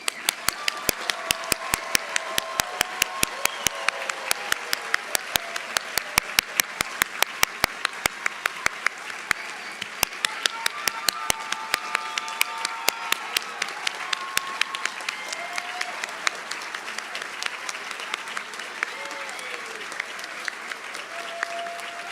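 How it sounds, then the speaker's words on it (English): An audience at a nursing graduation ceremony applauds steadily for over twenty seconds, a dense, even patter of many hands with sharp individual claps standing out, gradually thinning slightly toward the end. "please join me in giving one final round of applause to the graduates"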